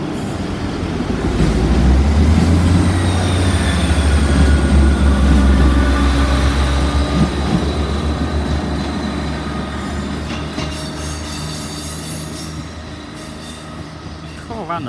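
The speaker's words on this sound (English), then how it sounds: "I hear that's quite a busy train sometimes." A train passes through St Denys station, a loud close rumble that swells early and then fades, with wheel squeal and rail clatter and brief talk.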